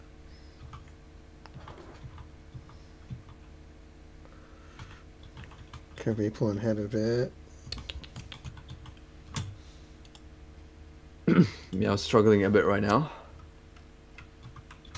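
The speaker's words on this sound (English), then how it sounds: "everyone can hear you typing" Quiet, rapid computer keyboard typing clicks continue through a Tetris match, sitting under two bursts of nearby conversation.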